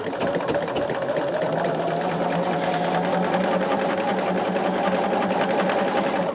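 A sewing machine runs steadily through fabric while piecing a quilt, its rapid even stitching hum continuing close and loud without pause or talk.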